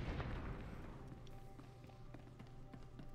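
Explosions and combat noise in Star Wars: The Old Republic, a dense, continuous rumble scattered with sharp bursts and thuds throughout, fairly loud with no clear talking.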